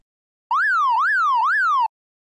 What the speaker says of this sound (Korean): 구급차 사이렌 소리가 들립니다